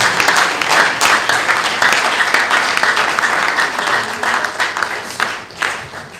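A workshop audience applauds the vice-chancellor with loud, sustained clapping from many people, the dense patter thinning slightly toward the end.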